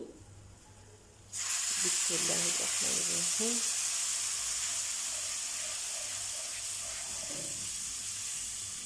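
Water poured from a measuring cup into a cooking pot while making suji halwa, a steady close hissing splash that starts abruptly and runs on continuously, with brief soft clinks early on.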